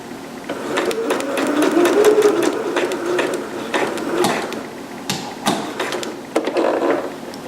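A sewing machine stitches a seam on a green performance gown, a steady mechanical whirring chatter that runs in close, even bursts with slight pauses and changes in speed.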